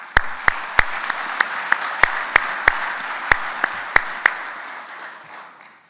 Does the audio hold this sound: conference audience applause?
yes